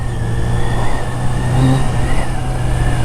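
A 1982 Yamaha Seca XJ650 motorcycle engine drones steadily while riding, a loud close mid-pitched hum mixed with wind rush and a slight rise and fall in revs, with no voices.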